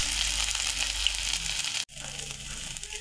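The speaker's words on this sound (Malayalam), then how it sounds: "ഇതിലേക്ക് അരിഞ്ഞു വെച്ചിരിക്കുന്ന ഇഞ്ചി ഇട്ട് കൊടുക്കാം." Chopped ginger sizzles in hot oil with mustard seeds in a bright, steady hiss. Partway through it breaks off for an instant, then the frying carries on slightly softer. It is close, and no one speaks.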